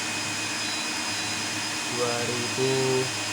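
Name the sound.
blower added as load to offgrid inverter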